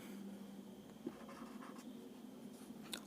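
Soft, faint scratching of a marker or chalk on a classroom board, a few light strokes with a small tap near the start, steady background hiss and no talk.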